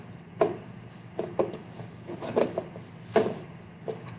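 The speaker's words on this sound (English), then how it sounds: "Cookie dough's a little cold, so we just got to really get it mixed in." Cold sugar cookie dough mixed by hand with a utensil in a bowl, giving irregular scraping and thudding strokes over a steady low background hum, close and moderately loud.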